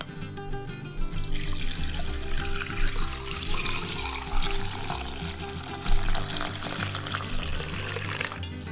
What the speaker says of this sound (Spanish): lo enjuagamos con agua fría.